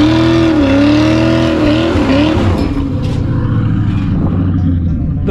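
A C4 Corvette engine runs close by with a deep, steady rumble and a wavering tonal whine that shifts pitch slightly before settling into a rough, loud idle.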